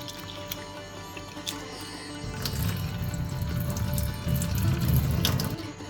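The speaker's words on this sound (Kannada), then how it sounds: "ಅವಲಕ್ಕಿಗೆ 1-2 ಸತಿ ನೀರು ಹಾಕ್ಕೊಂಡು ಚೆನ್ನಾಗಿ ತೊಳ್ಕೊಳ್ಬೇಕು" Flattened rice (poha) being washed with water in a kitchen vessel: a steady splashing pour of water, swelling into heavier sloshing and swirling partway through, close and alone with no talk.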